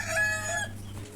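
A rooster crows loudly and close among older parent hens on an egg farm, one harmonic call of about half a second trailing off, over a steady low hum.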